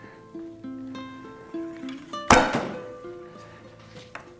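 A single arrow loosed from a homemade mountain bow strikes a target at fifteen yards with one sharp, loud thwack, set against faint tonal background sound before and after.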